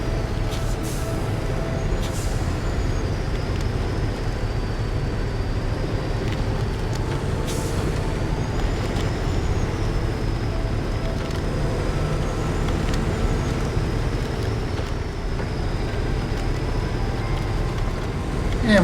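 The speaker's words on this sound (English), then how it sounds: "So we're going to fire the truck up again." A KRS 63 Pathfinder truck in a video game runs with a steady low engine drone and occasional higher whines and clunks layered over it, continuous and fairly close.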